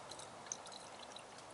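Coolant poured slowly into the cooling system of a 1995 Chevy Lumina, a soft steady trickle and faint splashing that stays quiet and even throughout, with no talking.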